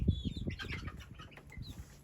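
Chickens are tossed outside and flap their wings hard. Several bursts of flapping sound close by, mixed with a few faint clucks.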